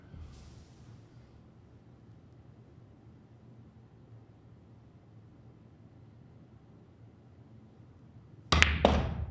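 A pool break shot struck with a high cue ball gives a sudden sharp crack of balls colliding and scattering near the end, after a long stretch of quiet room tone.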